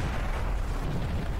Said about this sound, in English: Was that a cannon round that hit us?